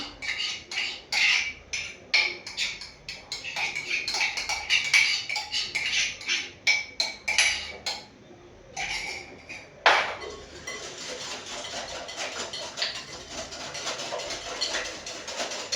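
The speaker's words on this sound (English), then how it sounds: "And then you whisk." Quick metallic clinks and scraping as a whisk beats melted margarine into carrot cake batter in a bowl, an irregular run of close taps for several seconds, then a steadier softer swish.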